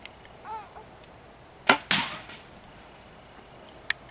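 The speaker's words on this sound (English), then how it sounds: "we're going to grab the 357 Magnum, and we're going to shoot that green water jug" Arrow fitted with a Bowmag .357 Magnum tip shot at a green water jug: two sharp, loud bursts close together near the middle, then a brief faint tick, with quiet outdoor ambience around them.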